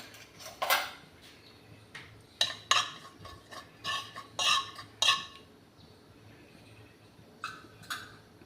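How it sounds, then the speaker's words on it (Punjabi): Cumin seeds tempering in hot oil for a dal tadka, stirred in a pan with a utensil: irregular metallic clinks and scrapes over a low steady hum, with no talking. "ਤੇਲ ਦੇ ਵਿੱਚ ਜੀਰਾ ਪਾ ਲਿਆ ਆਪਾਂ ਨੇ"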